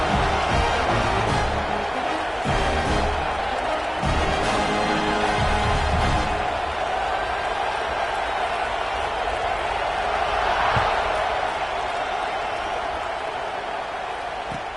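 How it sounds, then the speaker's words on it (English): A stadium crowd in an NCAA college football video game buzzes with a dense, steady roar of cheering and noise that carries through the whole stretch without letting up. "this crowd is buzzing after that last score"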